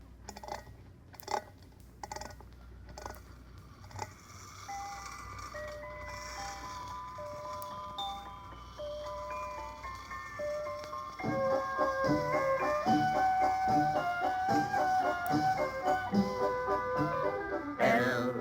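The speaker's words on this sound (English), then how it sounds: "you wind it up, and then you release the lever, and it spins around and plays music" A wind-up toy merry-go-round spins and plays a tinkling music-box tune. The melody starts sparse and quiet, then grows fuller and louder in the second half, with faint clicking from the mechanism.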